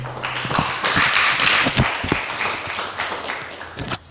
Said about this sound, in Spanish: Denle un aplauso a ese Dios creador.